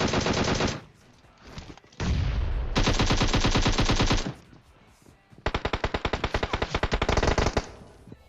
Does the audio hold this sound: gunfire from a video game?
yes